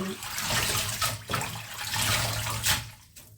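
Water runs and splashes steadily while wild vegetables are rinsed and washed, a close, continuous rushing sound with uneven surges and spatters, and it briefly drops away near the end.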